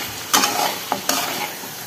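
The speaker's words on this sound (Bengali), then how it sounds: "গোশ রান্না করে নিচ্ছি।" Beef chunks are stir-fried in ground spice paste, giving a soft sizzle with a few quick stirring scrapes and clatters of the spoon against the pot, near and fairly loud, with no voices.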